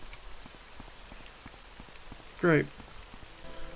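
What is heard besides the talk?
rain falling in the video game Morrowind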